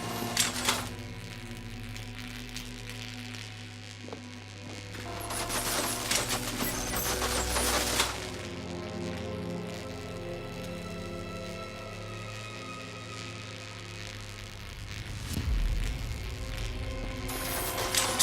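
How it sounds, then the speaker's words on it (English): Counterweight mechanisms in Batman Arkham Knight clank and ratchet as pressure pads are stepped on, with steady grinding gear noise and louder bursts of metallic clatter at intervals, close and continuous. "The counterweights move further when I step on the pads."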